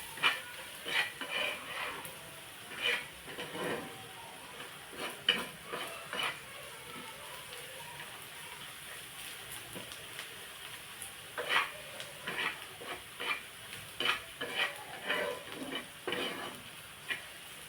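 Garam masala being stir-fried on a tawa for anda tawa, a spatula scraping and clattering in irregular bursts over a soft, steady sizzle, close and fairly quiet.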